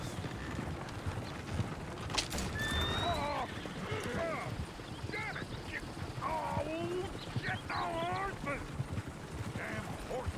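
Horse hooves clip-clop steadily in the Western video game Red Dead Redemption, with a whinnying neigh rising over a busy background of game ambience and voices.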